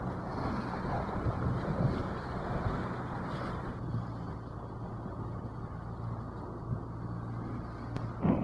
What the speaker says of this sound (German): Heute motoren wir nur ein paar Meter weiter